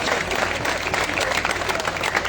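A crowd at a Navratri poetry gathering claps loudly for the saints, a thick, roaring wash of applause with crowd noise, dense and unbroken throughout.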